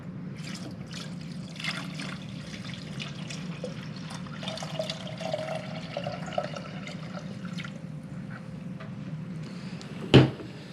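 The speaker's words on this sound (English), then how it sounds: "we're going to go ahead and pour our cleaning solution in there anyways" Cleaning solution pours into an Avalon bottom-loading water cooler, a steady close liquid trickle running throughout with a brief louder splash or clunk near the end.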